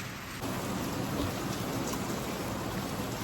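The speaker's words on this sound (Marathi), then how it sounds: "पाऊस काय थांबायचं नाव नाही घेत आहे" Steady rain falls on the Kokan coast, a dense, even hiss that swells slightly after the first moment and keeps on without a break. No voices are heard.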